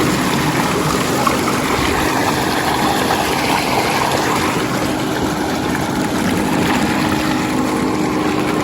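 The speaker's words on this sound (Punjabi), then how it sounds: "ਚੈੱਕ ਕਰੋ ਮਾਸ਼ਾਅੱਲਾ ਟੂਬਲ ਪਾਣੀ ਕਿੰਨਾ ਕੱਢਣ ਦਿਆ।" A farm tubewell pumps out a strong flow of water, making a loud, continuous, even gushing rush that holds steady throughout, with no one talking.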